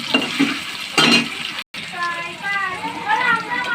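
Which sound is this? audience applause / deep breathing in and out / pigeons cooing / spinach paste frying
spinach paste frying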